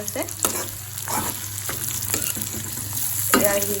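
Onions frying in a pan until they turn reddish give a steady close sizzle, with repeated stirring strokes scraping the pan every half second or so.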